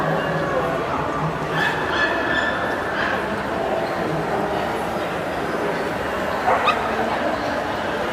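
Dogs barking and yipping amid a busy crowd at an international dog show in Thailand, scattered barks mixed into a constant dense hall hubbub with people talking.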